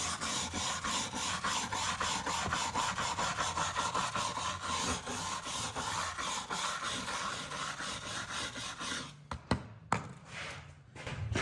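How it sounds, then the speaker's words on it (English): A hand scraper dragged repeatedly along the wood of an old stable door, a loud, rhythmic rasping of regular back-and-forth strokes, followed by a few knocks and a pause near the end, close and with no talk. "I'm just going to put that scraper on there."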